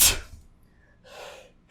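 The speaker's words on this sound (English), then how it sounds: "Oh, I sneezed so hard my controller isn't working now." A single hard human sneeze bursts out loudly at the start, followed by a softer breathy noise and another sharp onset at the end, with no talking.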